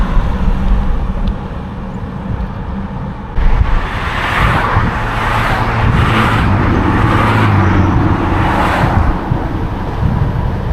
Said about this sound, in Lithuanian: Va čia tai mašinėlės.